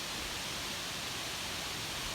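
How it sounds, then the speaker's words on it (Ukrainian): A steady, dense roar of strong wind rushing through trees before rain at night, a continuous rustling wash with no pauses or voices. "бо чути як дерева шумлять"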